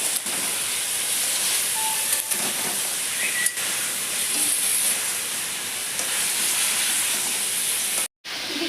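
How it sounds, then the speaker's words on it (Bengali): Chicken sautéing in butter and oil with a pinch of salt gives a steady, loud, broadband hiss of frying that runs without a break, with one short dropout near the end. "কিছুক্ষণ বাটার আর তেল দিয়ে একটু লবণ দিয়ে ভেজে নিচ্ছি"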